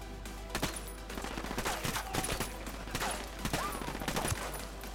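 Bursts of gunfire in the Ghost Recon Wildlands video game, repeated sharp shots in quick volleys at close range over a steady low rumble, with no speech.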